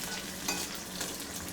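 Beef stew in a hot pot sizzles and bubbles while a spoon stirs it, giving a brief, steady hiss with soft scraping in the foreground.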